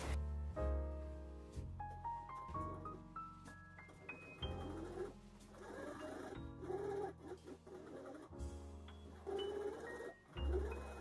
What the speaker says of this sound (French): Je vais venir passer une couture tout autour en laissant une petite ouverture pour retourner notre poche.